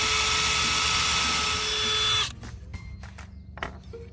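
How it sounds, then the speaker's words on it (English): A power drill whines loudly at steady speed for about two seconds, then stops abruptly, followed by a few light knocks and clicks. "just take your drill bit"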